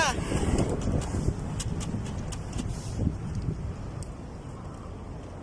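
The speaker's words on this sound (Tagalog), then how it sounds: "Ang lakas ng hangin." Strong wind buffets the microphone in a steady, rumbling roar that hardly lets up, outdoors at a pigeon release, with faint distant sounds underneath.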